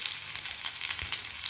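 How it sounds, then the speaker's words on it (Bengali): Onions frying in a pan for mashed lentils, with a continuous, close sizzle and a soft stirring knock partway through. "এখন দিয়ে দেব সামান্য পেঁয়াজ"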